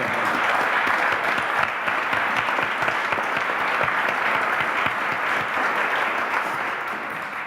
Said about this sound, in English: Let's applaud that first.